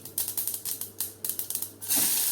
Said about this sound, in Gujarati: બંનેને આપણે સારી રીતે ફૂટવા દઈશું મેથી અને રાઈ ફૂટી જાય